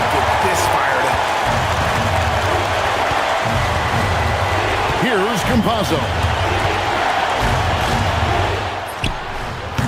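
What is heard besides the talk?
crowd cheering in eBasketball video game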